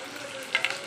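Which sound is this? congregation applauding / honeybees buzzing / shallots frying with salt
shallots frying with salt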